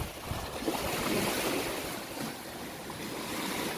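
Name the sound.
sea waves at a beach in Leyte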